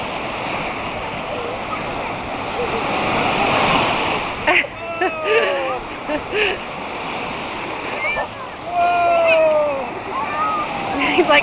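Lake Michigan waves wash onto a sandy shore on a summer camping day, a loud rushing surge that pulses and recedes while adults and a toddler talk and squeal nearby.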